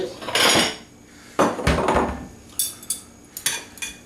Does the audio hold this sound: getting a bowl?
yes